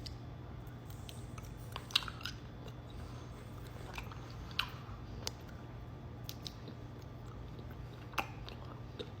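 Quiet, sparse crunching bites of frozen honey jelly with star-shaped candy, soft chewing between them, a few sharper crackles standing out against a steady low hum.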